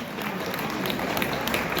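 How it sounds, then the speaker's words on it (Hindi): An audience at an award ceremony in Dehradun applauds steadily, a dense, continuous wash of many hands clapping with no breaks, filling the space evenly. "तो जोरदार तालियां बजाते रहे, लगातार बजाते रहिए"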